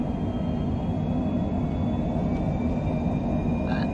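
A steady low rumble of a Cessna aircraft engine in Microsoft Flight Simulator as the throttle is advanced, a continuous, even drone with a faint high tone above it.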